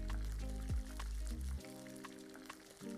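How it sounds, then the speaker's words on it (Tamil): Water pours into a pot of masala and prawns for a prawn biryani, a close, gurgling, bubbly stream with splashing that eases off into softer trickles and drips after a second or so. "தண்ணி ஊற்றிடலாம்."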